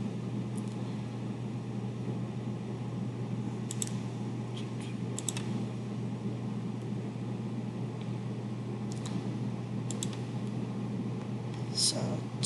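Quiet, scattered keystrokes on a computer keyboard click in short bursts over a steady low hum, with no one speaking.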